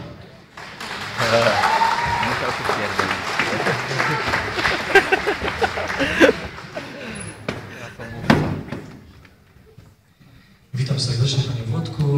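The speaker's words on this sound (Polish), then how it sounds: "Włodzimierz Pucek, Wielkie Brawa." An audience bursts into sustained applause that fades away, briefly stops, then resumes, with a voice heard speaking in the room.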